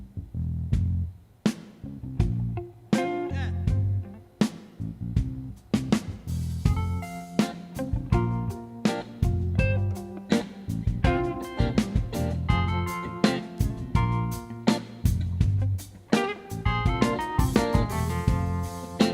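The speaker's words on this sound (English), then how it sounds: "So it's the band, a horn section, organs, backup singers" A nine-piece blues band with a horn section, organs and backup singers plays a live set at a festival, a full, dense mix with steady rhythmic hits running throughout.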